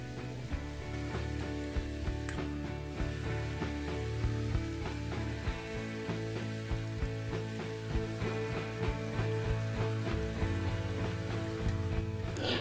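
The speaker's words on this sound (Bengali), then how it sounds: "সব বাঁধাকপি কুচিগুলো দেওয়ার পরে আমি এটাকে মিডিয়াম টু হাই ফ্লেমে 1 মিনিটের মতো ভেজে নিচ্ছি" Shredded cabbage fries in a pan over a medium-high flame for Bengali posto, a steady loud sizzle with scattered crackles and occasional stirring clinks running throughout.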